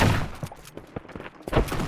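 Rapid game gunfire from Shotgun Farmers, a run of punchy bursts and thumps spread across the moment at moderate loudness, dense and busy with little pause.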